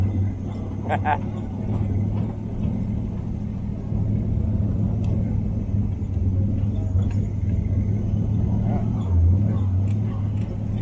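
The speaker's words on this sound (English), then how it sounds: "What a high idle." A rat rod engine, long sat with old gas in the tank and its idle screw turned up, runs at a steady high idle with a constant low rumble, while voices talk nearby.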